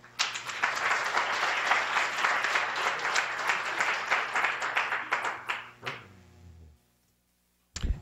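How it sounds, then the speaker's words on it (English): Warm round of applause from a lecture audience at a public health grand rounds session, many hands clapping steadily for about six seconds before tapering to silence, then a brief thump near the end. "Please join us in a round of applause as we welcome Dr."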